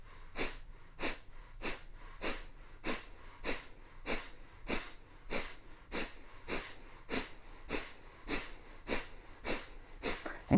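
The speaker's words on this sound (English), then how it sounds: "we really want to focus on the forceful exhale and allow the inhale to come pretty automatically" Forceful, sharp exhales during a breathing exercise, a quick steady rhythm of about two per second that goes on unbroken, close and clear, with no talking.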